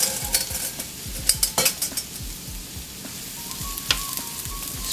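Mushrooms sauté in olive oil in a pan with a soft continuous sizzle, while a utensil taps and scrapes them apart in irregular bursts, close by, with no voices.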